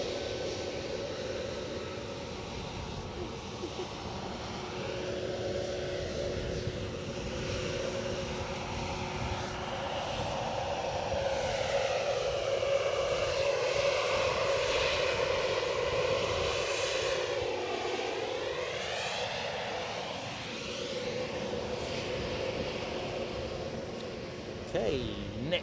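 A JetBlue airliner at Edinburgh Airport rolls past with a sustained engine roar and a drone that sweeps in pitch as it moves. It rises and falls over about twenty-five seconds while people talk over it.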